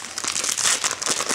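Close, loud crinkling and crackling of a trading card pack's foil wrapper being torn open, one continuous rustling burst with no talking.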